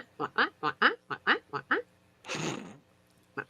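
A duck quacks in a quick series of about eight loud, close, nasal quacks, then pauses with a breathy rustle before two more quacks, and nobody speaks.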